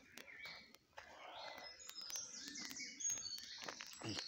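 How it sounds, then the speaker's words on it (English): Birds sing outdoors along a cobbled path lined with trees, with faint scattered chirps and short whistled calls drifting over quiet footsteps and soft rustling, all fairly distant and low in level. "And here are all the birds singing."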